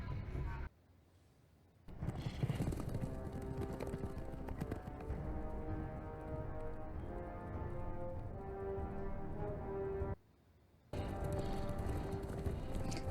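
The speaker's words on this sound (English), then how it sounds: "Look at the horse." Steady clip-clop of horse hooves under a continuous wash of music and background noise from the film Avatar, with two brief drops to near quiet.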